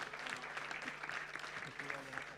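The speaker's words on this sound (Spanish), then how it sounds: "Aplausos para Alessandro también, por favor." Fairly faint applause from an audience at a live literary program, a soft continuous patter of clapping with voices talking over it throughout the short stretch.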